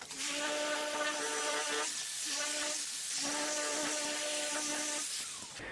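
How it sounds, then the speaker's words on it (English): A sharp 100 grit Abranet disc on a power sander works the surface of a flat panel cabinet door. The whirring hum is steady and close, with a brief dip in pitch around the middle. "I'll start the sanding process with a sharp 100 grit Abranet disc to cut away scratches made by the putty knife"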